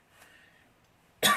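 A single sharp cough bursts out near the end of the short stretch, preceded by a faint breathy throat sound; close and loud against near silence.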